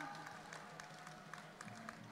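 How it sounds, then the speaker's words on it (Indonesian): Participants at a Borneo cultural celebration event are applauded by a crowd, a soft, distant patter of scattered clapping from a large outdoor audience, fairly faint and even throughout. "Tepuk tangan sekali lagi untuk para peserta"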